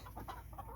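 Hens cluck softly in a hen house, a few brief murmuring calls over a low steady background hum.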